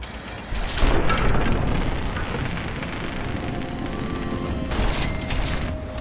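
Pulse grenade detonating in Fallout 3 against a Robo Brain: a broad booming burst that rises near the one-second mark and rumbles on, with a second swell of noise near the end, no talking.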